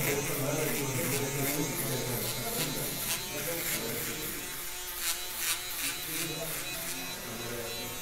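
Electric hair clipper buzzing steadily in a barber school while cutting a fade haircut, a close continuous whine with faint talk in the background.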